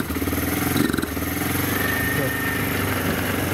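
A carbureted Lexmoto Street 125 motorcycle engine (DFE125-8A) idles close by with a steady, low pulsing rumble, a slight surge near the start, while a voice talks faintly over it.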